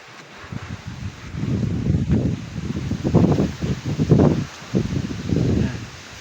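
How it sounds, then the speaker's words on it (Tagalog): Strong wind gusts buffet the microphone in rising and falling surges, with rough rustling noise swelling loudly several times. "laban natin pag ganito malakas ang hangin"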